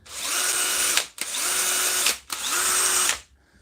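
A power tool with a brushless motor on a repair bench, running in three bursts of about a second each with a high whine, sharp stops and brief gaps between, no talk.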